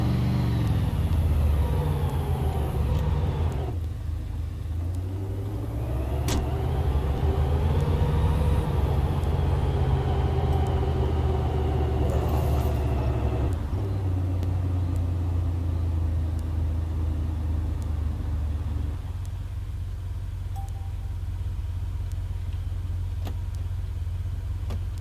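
A car driven in the game DayZ: a steady, continuous engine rumble with shifting drone and slight revving, changing gear-like around the middle and settling lower near the end, loud and sustained with no talk.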